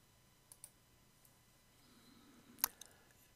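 A faint, sharp computer mouse click during a software installer setup, one crisp tick standing out amid a few softer clicks in a quiet room.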